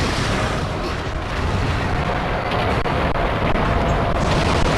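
Rapid, continuous gunfire in the video game Monster Hunter Generations Ultimate, a dense, loud, unbroken barrage of booming shots without pause.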